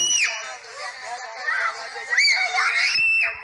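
A girl screams repeatedly in high, wavering shrieks, heard faintly as if played back from a device, with muffled background voices.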